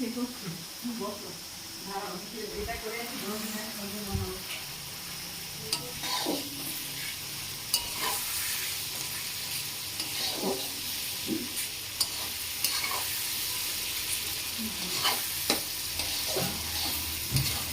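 Chicken sizzling and being stirred in a spice masala in a pan, with steady soft frying hiss and intermittent scraping stirs, close, while people talk in the background.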